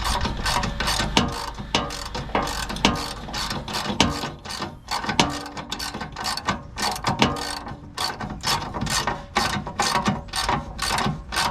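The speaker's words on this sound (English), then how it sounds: "Put your 1/2 inch back on there in your socket. Tighten this back down." A hand ratchet with a 1/2 inch socket tightens a bolt during an RV step motor replacement, giving a rapid, close, loud clicking that repeats in uneven strokes with short pauses between them.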